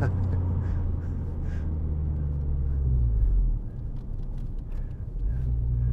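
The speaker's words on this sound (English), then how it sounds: "that sounds like a 4-cylinder Lamborghini" A 2010 Renault Clio 2.0 VVT Renaultsport four-cylinder engine rumbles steadily with a low, droning tone, dipping briefly before climbing back up as it pulls.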